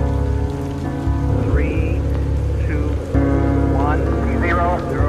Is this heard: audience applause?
no